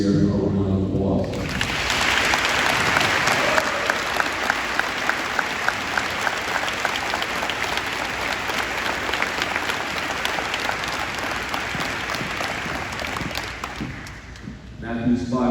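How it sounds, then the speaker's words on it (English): Audience at a celebration of life breaks into sustained applause, loud dense clapping from a crowd lasting over ten seconds before fading, with a voice briefly at the start and end. "I would like everyone to please give Sierra a round of applause."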